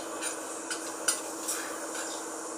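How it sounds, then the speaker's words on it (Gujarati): Curry leaves drop into hot oil and crackle with a steady hiss, punctuated by a few sharp pops and light spatters, close and fairly quiet with no voices. "તો આમાં હું થોડુંક પહેલાં લીમડો એડ કરી દઈશ."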